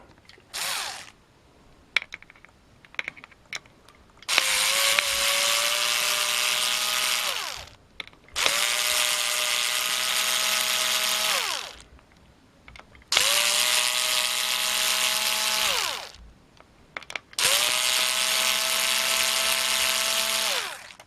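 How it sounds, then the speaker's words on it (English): A power screwdriver backs hard drive screws out of an old PC in four sustained whirring bursts of about three seconds each, with short pauses between them and a few small clicks and handling knocks before the first burst. "I'm going to have to undo these screws first"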